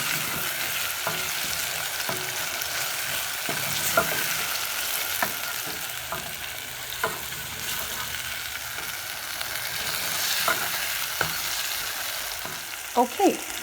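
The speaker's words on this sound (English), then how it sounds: "add your cabbage in kidogo kidogo, little by little, as you stir, and cover it all around with the tomatoes and spices" Cabbage stir-frying with tomatoes and spices in a pan, a constant soft sizzle broken by repeated scraping stirs and spatula knocks, close, with a couple of sharper clatters at the end.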